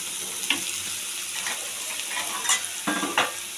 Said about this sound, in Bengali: জিরা টিরা ফোড়ন দিয়ে ভেজে নিচ্ছি পেঁয়াজটা